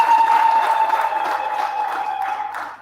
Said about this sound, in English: Let's give another clap for Hatch Technology.